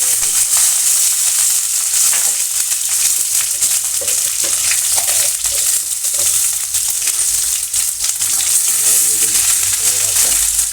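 Curry leaves and green chillies fry in hot oil in a pan, giving a loud, dense sizzle that spatters continuously throughout, close up, with no talking over it.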